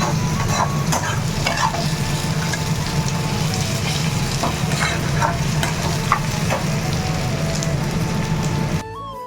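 Chowmein is stir-fried in a pan, a dense, steady sizzle with constant scraping and tossing of the spatula running close and loud for the whole stretch before it abruptly drops away at the end; no one speaks.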